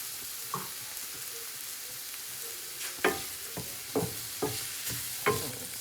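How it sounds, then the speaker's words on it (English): BBQ jackfruit with extra hot pepper sautéing in a pan: a low sizzle runs throughout, broken by a handful of sharp, close spatula scrapes and taps, most of them clustered in the second half. "Saute it some more."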